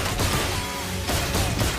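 Gunfire in a mobile video game battle: a dense, crackling burst of shots rattles on for about two seconds, loud and close, with no voices.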